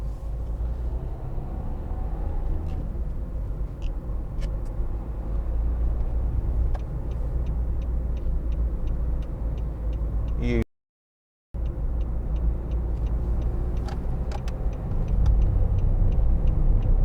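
Steady low road and engine rumble from a 2013 Nissan Note 1.5 dCi diesel hatchback on the move, with faint ticks over the drone and a brief dropout near the end.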